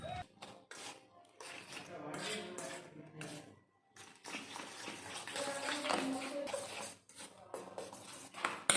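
Eggs are whisked into a chicken omelette mixture in a bowl, giving irregular bursts of clinking and scraping at close range with brief pauses between strokes.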